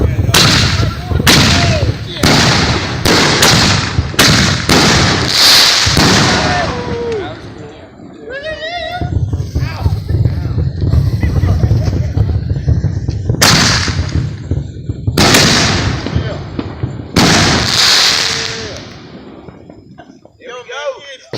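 Consumer fireworks from a small eight-shot box go off close by as a series of sharp loud bangs and bursts, with crackling tails between them, while people talk and react throughout.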